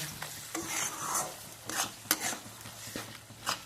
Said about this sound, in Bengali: এক চামচি কাঁচা লঙ্কা বাটা ভালো করে কষিয়ে নেব